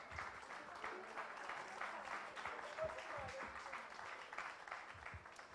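Steady applause from an audience at a book launch event, dense and continuous throughout with a faint crowd murmur, moderately loud and slightly distant.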